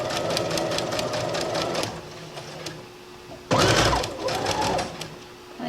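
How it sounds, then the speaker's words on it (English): A domestic sewing machine stitches a skirt in two bursts of steady, loud whirring, separated by a quieter pause with a faint hum. "Just gonna sew it right there."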